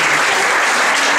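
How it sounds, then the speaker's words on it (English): Dense, loud applause from an audience at closing remarks fills the whole moment, a continuous patter of many hands clapping. "Again, round of applause for us"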